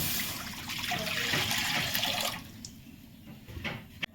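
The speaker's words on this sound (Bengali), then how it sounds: "কড়ার মধ্যে সামান্য পানি দেব।" A small amount of water poured into a kadai (wok-style pan) on a lit gas stove, splashing steadily for about two seconds, then tapering off into softer trickles and drips.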